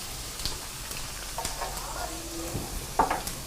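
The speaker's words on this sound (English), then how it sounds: "So we're gonna let that saute a little bit. Get that sizzling." Cilantro and canned mushrooms sauté in coconut oil with a steady soft sizzle, broken by occasional stirring scrapes and utensil taps close by.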